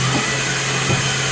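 The spindle of a Trak LPM vertical machining center runs at 7,000 RPM, giving a loud, steady, continuous whirring hum with a constant pitch for the whole brief moment.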